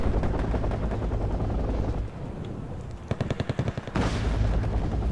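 Wargame battle with rapid gunfire bursts over the droning thud of nearby helicopters, loud and close, the shots clustering in a quick rattling volley midway before the rotor roar swells again.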